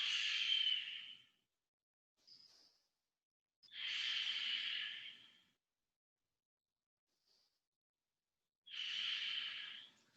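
Three slow, deep exhales during an advanced vinyasa yoga session, each a soft airy rush lasting over a second, separated by quiet pauses with faint brief inhales, close and alone.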